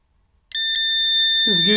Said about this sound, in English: Is it connected to the ground? Yeah, it's giving beep.